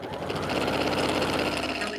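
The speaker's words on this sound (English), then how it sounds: "So let me do my quarter inch top stitching here." A Janome sewing machine running fast for quarter-inch topstitching with an HP foot, a steady close mechanical whirr with rapid even needle ticks that never pause.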